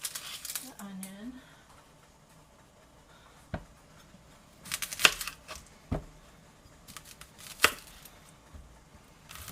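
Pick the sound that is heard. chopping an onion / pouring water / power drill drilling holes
chopping an onion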